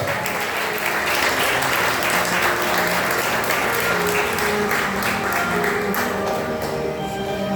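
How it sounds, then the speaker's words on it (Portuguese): Congregation in a church breaking into sustained applause, a thick, continuous roar of many hands clapping that holds steady for several seconds, faint voices buried beneath it. "As palmas. Glória a Deus."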